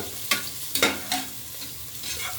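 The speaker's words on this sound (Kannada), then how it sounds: "ಅದನ್ನು ಸ್ವಲ್ಪ ಫ್ರೈ ಮಾಡ್ಕೋಬೇಕು." Whole green chillies frying in a pan for vegetable pulao, a few quick stirring scrapes and soft sizzles heard close up over a quiet background.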